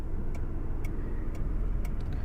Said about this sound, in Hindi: तो अभी जो नॉइस सुन रहे हो आप, ये कंप्रेसर के साथ में है।